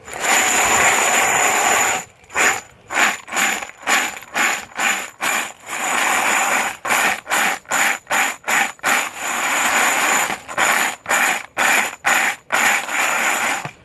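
Cleaned brass cartridge cases and steel pins swirled in a pan, giving loud, dense metallic rattling and clinking in repeated bursts separated by brief pauses, with no talk.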